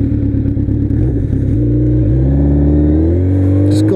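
A Kawasaki Z1000 motorcycle engine runs loud and close, idling roughly and then climbing steadily in pitch as the revs rise, with no voices over it.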